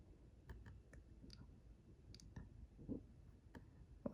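A computer mouse gives quiet, sharp single clicks, spaced irregularly about a dozen times over a few seconds, close and faint against low background hum.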